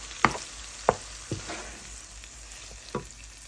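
Corned beef with vegetables frying in a pan for breakfast, a soft steady sizzle under a few sharp spatula knocks and scrapes against the pan, close and quiet with no talk.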